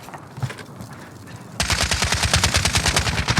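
Rapid machine gun fire in the video game Warzone, a loud sustained burst of evenly spaced shots that starts abruptly after a quieter, muffled stretch and continues to the end.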